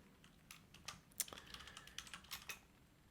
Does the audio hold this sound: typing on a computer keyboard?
yes